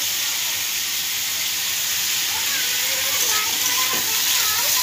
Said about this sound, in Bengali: এবার আলুটা দিয়ে দিলাম, আলুটা দিয়ে অল্প নাড়াচাড়া করলাম।